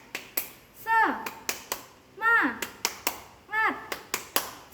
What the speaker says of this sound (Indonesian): Oke, kita tepuk semangat dulu ya adik-adik.